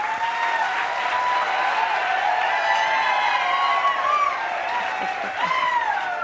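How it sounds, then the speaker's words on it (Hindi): A crowd at an Indian commemoration for Chandrashekhar Azad and Bal Gangadhar Tilak bursts into loud, sustained applause, a dense roar of many hands clapping throughout, with voices and cheers rising over it. "जोरदार तालियां बजाओ।"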